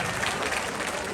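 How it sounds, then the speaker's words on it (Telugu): An audience applauds, giving a short, steady wash of clapping heard at moderate distance. "సో ఒకసారి గట్టిగా చప్పట్లు కొడితే థ్యాంక్ యూ సో మచ్"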